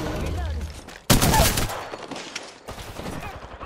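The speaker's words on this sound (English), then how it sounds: "I'm getting shot at." Gunfire in the video game Apex Legends breaks out as a sudden loud burst of rapid shots, then continues more sparsely with scattered bursts and game noise.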